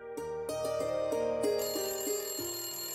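A repeating telephone ringtone plays clearly and fairly loud, its melodic tones sounding in steady bursts through the whole stretch, with no voices over it.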